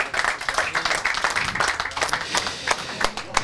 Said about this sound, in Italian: Grazie ancora, un applauso.